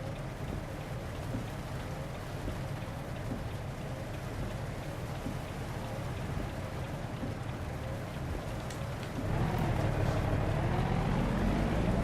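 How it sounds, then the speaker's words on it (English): Steady rain hisses over a low truck engine rumble in the video game American Truck Simulator, set in Nevada, growing louder and heavier near the end, with no talking. "Well, it's raining in Nevada."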